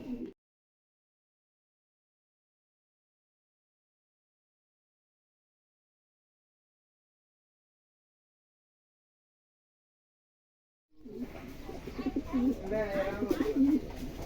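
Pakistani teddy racer and Chinese high-flying pigeons cooing close by, soft low repeated coos after a long silence, with a voice also present.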